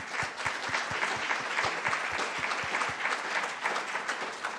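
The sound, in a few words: audience applause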